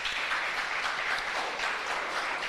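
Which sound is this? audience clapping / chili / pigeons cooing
audience clapping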